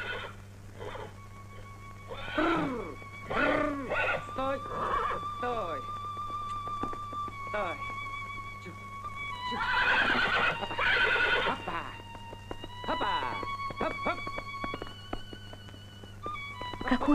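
A horse whinnies and neighs several times, loud and close, with scattered hoof clip-clops and people talking in Russian around it, in a 1979 Soviet film scene.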